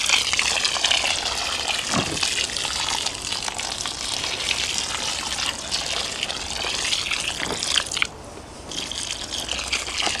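Water pours steadily into a garden furrow to soak it before planting summer leeks, a continuous gushing splash that stops briefly near the end, then resumes more softly.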